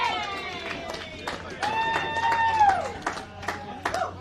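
Spectators at a suburban Australian rules football match at Payneham Oval in Adelaide cheer and whoop after a goal, a lively outdoor crowd with sharp shouts and whistles rising over a steady hum.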